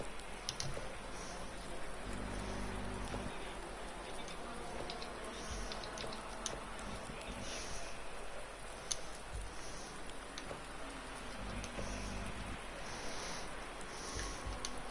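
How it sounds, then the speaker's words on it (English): Heavy rain falls in a GT3 racing video game at Bathurst, a dense steady patter with scattered drop ticks, moderately loud and continuous, a low engine hum beneath it. "it's definitely not light rain"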